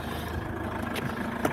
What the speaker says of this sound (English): So I've fired up the engine